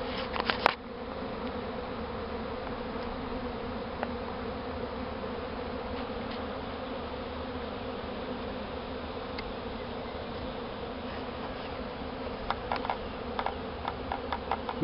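A swarm of honeybees pours out of a hive, producing a dense, continuous buzzing drone that holds steady throughout, with occasional close wingbeat flickers and light ticks over the hum.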